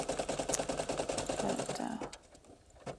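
A Brother PE 800 embroidery machine finishes the last stitches of a flag patch, rapid rhythmic needle clatter up close that stops abruptly, followed by faint handling noises.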